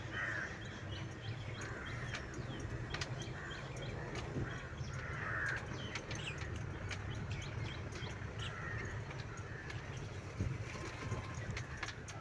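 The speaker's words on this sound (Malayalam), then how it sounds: "കിളികളുടെ സൗണ്ട് നന്നായിട്ട് കേൾക്കാൻ കഴിയുന്നുണ്ട്." Crows cawing and other birds calling along a forest route in the Nelliyampathy hills, scattered calls repeating steadily at moderate distance, some louder than others, with no one talking.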